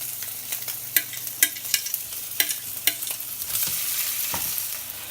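Tofu frying in a pan for a tofu scramble, a steady sizzle punctuated by sharp clacks of a utensil against the pan, the frying noise swelling slightly toward the end.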